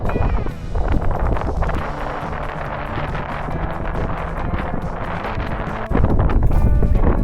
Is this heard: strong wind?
yes